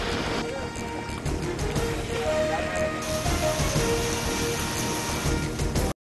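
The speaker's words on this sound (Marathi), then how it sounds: "रत्नागिरीतील पावसमध्ये ढगफुटी सदृश्य पाऊस" Dense, steady downpour of heavy, cloudburst-like rain in Ratnagiri drumming on surfaces, loud and continuous, with a faint tonal hum underneath and no talk.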